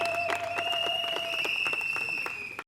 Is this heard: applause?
yes